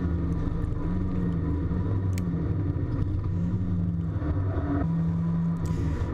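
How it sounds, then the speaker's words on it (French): A Twin Cup race car accelerates down the straight at the Nogaro circuit during a four-hour endurance race, with a steady, loud engine rumble and drone that holds throughout and no talking. "on voit un peu la vitesse maximale de la Twin Cup qui s'éloigne au fur et à mesure de la ligne droite"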